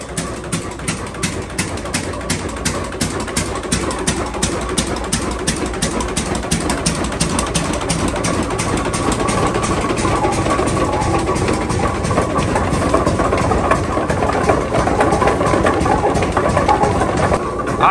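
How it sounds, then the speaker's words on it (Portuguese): Very old engine, once a power generator, driving a sugarcane mill at a traditional engenho in Paraíba, Brazil, thumping in a loud steady rapid rhythm with clanking gears and mechanical rattle throughout. "Isso já foi um gerador de energia. E hoje é o motor do engenho."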